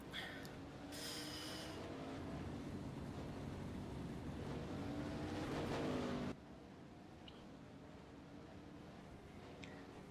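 A race car engine in the Second Life video game drones steadily through a hot lap during a GTSS Summer Nights race round, loud and continuous for several seconds, then the sound cuts abruptly to a quieter, duller tone for the rest.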